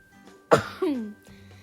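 A single sharp cough from someone sitting near a microphone, loud and brief, followed by a short throat-clearing rasp against quiet background hiss.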